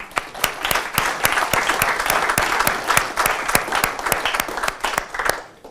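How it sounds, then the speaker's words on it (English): Applause from a meetup audience at a London accessibility event, with many hands clapping in a steady, dense patter and sharp individual claps standing out. It fades toward the end. "So a round of applause, please."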